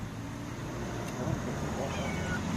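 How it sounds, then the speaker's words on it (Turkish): A faint cat meow at a köfte restaurant in Beykoz, Istanbul, rises briefly over constant background rumble and distant street noise. "Kedi de sizden köfte istiyor beyefendi."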